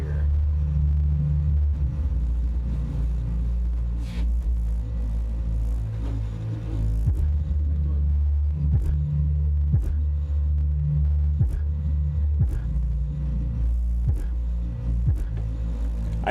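Deep, throbbing bass booms steadily from a Deaf Bonce Machete Fight MF-12 D2 car subwoofer on an NVX NDA103 amplifier, with repeated low thumps pulsing through a constant rumble and no talking.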